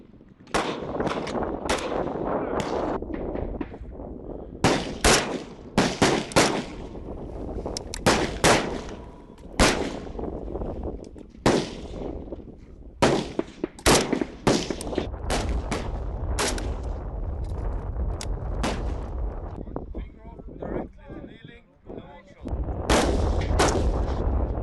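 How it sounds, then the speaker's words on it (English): Gunshots ring out during a prone and kneeling shooting drill with one shot per exposure: a long series of loud, sharp, close cracks, some in quick pairs and clusters, with brief gaps and faint talk between them. "Prone and kneeling shooting with the one shot each exposure."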